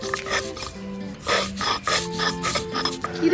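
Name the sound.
grinding poppy seeds into paste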